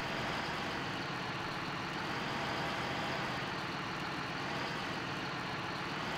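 A tractor engine idles steadily in Farming Simulator 15, a continuous low rumbling drone holding level throughout with no talk over it.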